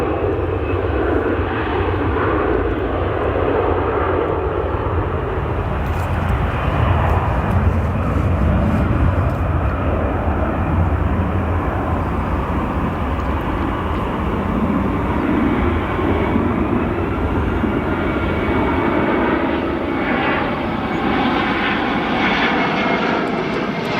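A fixed-wing airliner departing O'Hare International Airport roars with a loud, continuous engine rumble that holds steady and slowly shifts in pitch for the whole stretch, with no talk over it.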